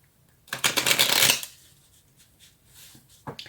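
A deck of tarot cards riffled in one loud, crisp shuffle lasting about a second, close to the ear, followed by quieter handling and a small flick of cards at the end.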